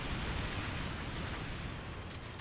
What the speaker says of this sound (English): that big explosion there was basically a signifier saying, hey, you've killed the red ant nest